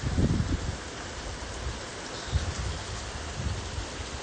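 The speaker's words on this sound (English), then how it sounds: "And I'm now getting a really heavy downpour." Heavy rain pours down steadily during a Miami thunderstorm, a dense wash of hiss with low rumbling gusts, close and continuous with no voices.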